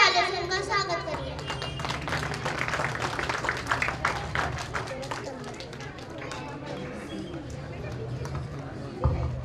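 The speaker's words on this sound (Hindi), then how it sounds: "जोरदार तालियों से उनका स्वागत करिए।" Clapping greets students at a school annual day celebration, with a burst of hands early on that thins out under children's voices, chatter and footsteps.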